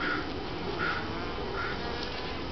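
A dense, steady buzzing of many honeybees close by at top bar hives, a continuous drone with faint higher whines rising and fading, no voices.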